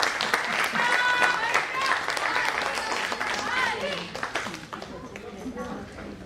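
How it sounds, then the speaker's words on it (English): Audience applause at an International Women's Day cultural event, loud sustained clapping welcoming a play's cast onto the stage, gradually thinning out toward the end. "So please, with a huge round of applause,"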